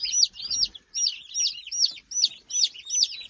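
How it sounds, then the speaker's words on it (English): Newly introduced chicks in a crowded brooder shared with a turkey and meat chickens give repeated high, sharp peeping chirps in quick bursts, close and fairly loud with short pauses between calls. "Newly introduced chicks,"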